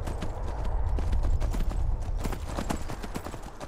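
Horse hooves clip-clop steadily in the video game Skyrim, a close, rapid rhythm of hoofbeats over uneven ground with a brief snort, continuous and fairly loud.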